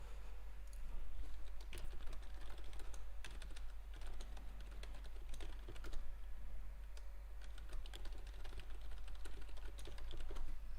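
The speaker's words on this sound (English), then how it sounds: "If you do hear typing," Steady computer keyboard typing runs throughout, with dense irregular key clicks close by and no voices, during a live day-trading session.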